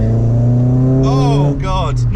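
A Renault Clio 172 engine drones loudly and steadily inside the car, then briefly dips as a sharp gear change goes through, with an excited voice shouting over the engine noise.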